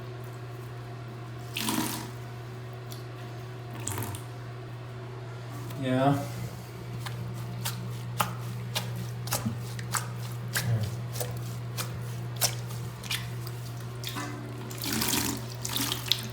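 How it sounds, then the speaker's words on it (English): Water being sopped with a sponge from a dirty toilet tank and squeezed into a bucket, soft splashes and drips in bursts over a steady low hum, with a brief spoken word. "grab a bucket and you want to take a sponge and sop up the water from the tank"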